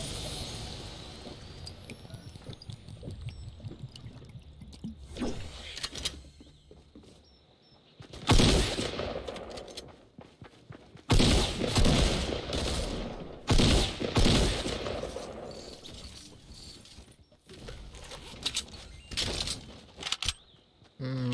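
Pistol shots fire in a battle-royale video game, several sharp bursts spaced across the clip with quieter stretches between them and no talking.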